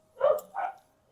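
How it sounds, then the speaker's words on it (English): Two short barks from a dog in the background, mid-distance and fairly clear, spaced about a third of a second apart with quiet after. "I've got dogs barking in the background."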